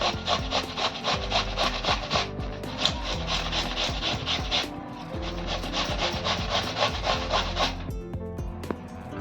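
Cucumber, seeds removed and cut into pieces, grated by hand on a grater: steady, rapid rhythmic rasping strokes, close and loud, continuing throughout with no talking.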